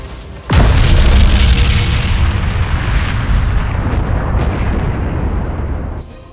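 An enemy flagship exploding in the space-battle game Battlefleet Gothic Armada 2: a single huge, close boom that bursts suddenly and then rumbles on in a long, loud roar that slowly fades.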